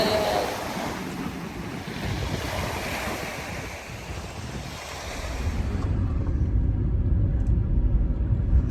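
Sea waves surge onto a cold, windy beach, a steady roar of surf mixed with wind buffeting the microphone, growing louder and fuller in the last few seconds, with no voices.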